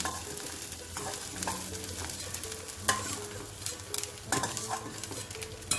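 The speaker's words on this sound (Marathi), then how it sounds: "छान फुलतो तळला की खुसखुशीत होतो क्रिस्पी होतो" Edible gum (dink) frying in hot oil for ladoo, a continuous crackling sizzle with stirring scrapes and occasional sharp clinks of a utensil against the pan.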